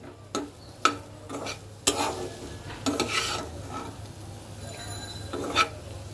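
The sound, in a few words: cumin powder masala being sautéed and stirred in a pan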